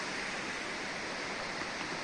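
Water crashing down through a river gorge in Cazorla, a steady, broad rushing roar heard at a distance with no voices.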